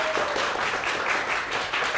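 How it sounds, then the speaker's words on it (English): A live panel audience claps steadily throughout, a dense, even patter of hands at moderate volume with no pauses. "Please give them a round of applause"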